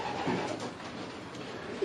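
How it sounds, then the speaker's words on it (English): A pigeon held in a loft coos softly, a brief low murmuring call against a faint background hum. "you're holding a pigeon there now"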